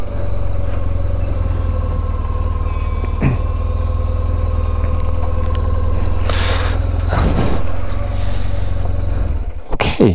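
A BMW R 1150 GSA motorcycle idles close by with a steady, loud, low rumble throughout, with a few brief clicks and knocks over the engine's even throb.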